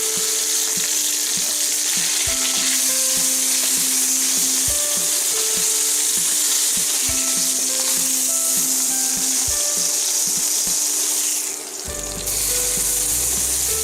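Pork loin sears in a hot pan with a loud, steady, close sizzle throughout, broken by a few soft knocks as the meat is turned.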